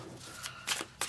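A tarot card set down on a table during a reading, giving a few short papery slides and taps, close and fairly quiet.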